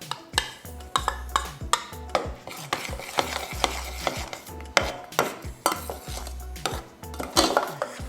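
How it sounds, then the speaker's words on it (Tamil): A spoon repeatedly scrapes and knocks against a metal pot while unsweetened khoa is stirred into a thick coconut burfi mixture with sugar, giving steady, close, rhythmic clanks and scrapes with no talk. "நல்லா அந்த கோவா வந்து கரையிற மாதிரி நல்லா கலக்கி விட்டுக்கலாம்"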